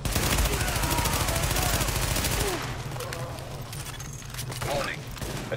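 Rapid automatic gunfire rattles in The Division, a dense fusillade of shots that runs for a few seconds and then fades into scattered, quieter bursts, with a voice speaking in the background.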